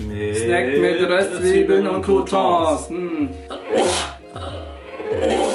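A single sneeze bursts out sharply in a kitchen while someone talks in German during a taste test of instant cup noodle meals, the voice continuing around it.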